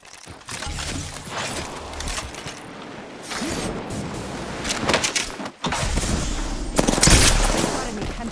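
Video game gunfire rattles in fast, repeated bursts with mechanical clicks and clanks, loud and near, rising to a heavier volley toward the end, mixed with a person speaking.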